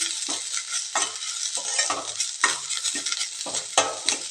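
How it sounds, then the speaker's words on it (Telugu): Mint chutney ingredients frying and being stirred in a pan over a medium flame, a steady close sizzle punctuated by repeated scraping strokes of a spoon roughly every half second. "మీడియం ఫ్లేమ్లో వేయించుకోవాలండి"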